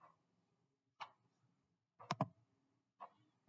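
A computer mouse clicks a handful of times in a quiet room, single and double clicks spaced about a second apart, crisp and close.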